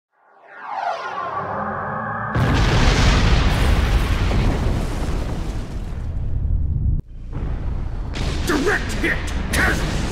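Weapons fire striking a starship in Star Trek Online sets off a loud, sustained explosive roar that swells, breaks off briefly, then rumbles on with crackling bursts, while a voice talks over the early part.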